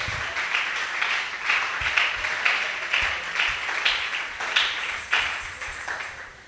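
Congregation at an evening worship service applauding and cheering for the Lord, steady rhythmic clapping mixed with shouts of acclaim, sustained and fairly loud throughout.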